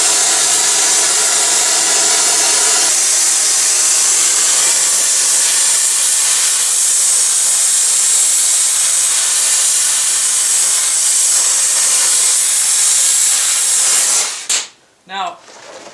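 Oxy-fuel torch heating a crusty truck's Napco 4x4 shifter part gives a loud, steady roaring hiss up close for about fourteen seconds before it cuts out abruptly.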